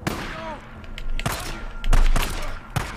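Gunfire in the game Days Gone comes as several sharp, punchy shots spaced out in quick succession, close and loud, with a player's voice speaking between them.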